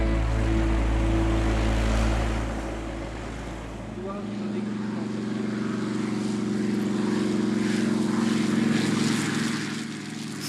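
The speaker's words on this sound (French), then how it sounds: "Les T6 passent au-dessus de nous dans le fracas des explosions et le vrombissement des moteurs." North American T-6 propeller planes flying over an air show at La Ferté-Alais, a loud, sustained engine roar and propeller drone whose pitch shifts as the aircraft pass overhead, with no talking.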